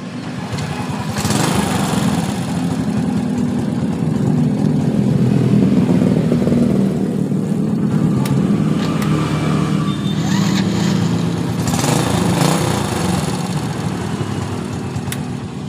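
A Honda Supra Fit motorcycle engine revs up after its clogged carburetor main jet is cleaned, loud and close, rising through several throttle blips and holding a buzzing, steady roar.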